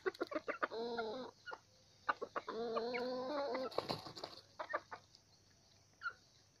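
A mini decoy rooster clucks close by in short, quick bursts of throaty calls separated by brief pauses, loud and alone.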